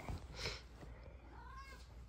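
A cat meows softly a couple of times, faint and close, with a low rumbling background throughout.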